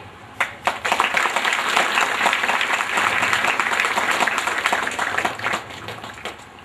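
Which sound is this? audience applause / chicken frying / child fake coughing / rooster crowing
audience applause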